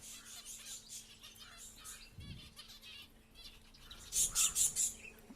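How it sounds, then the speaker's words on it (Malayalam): Pet lovebirds feeding on homemade egg food, with soft wing flutters and scattered faint chirps early on, then a close burst of several loud, rapid high-pitched calls near the end. "ഇതാ ലവ് ബേർഡ്സ് ഉണ്ടല്ലേ കഴിക്കുന്നത്."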